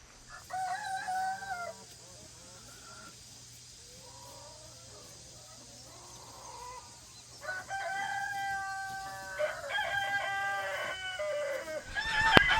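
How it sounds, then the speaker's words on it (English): Egg-laying chickens cluck and call on a farm, with a rooster crowing near the start and again louder toward the end over steady outdoor background noise. "we're working on moving the egg birds this morning"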